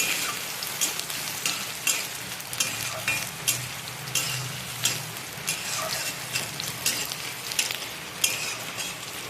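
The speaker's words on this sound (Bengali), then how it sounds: "পেঁয়াজটা লাল লাল করে ভেজে নিই।" Chopped onions frying in a pan for a rohu fish head curry, a steady close sizzle with repeated crackling pops and occasional stirring scrapes throughout.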